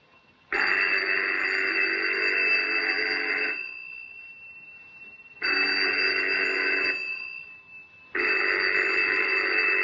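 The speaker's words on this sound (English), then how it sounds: "Phone's been ringing for 10 minutes." A telephone rings in a Charlie Chan film, loud electric bell bursts of about three seconds each, repeating three times with short silent gaps between them.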